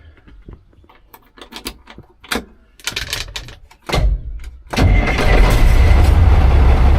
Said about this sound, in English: I'm going to crank it up and let you hear it run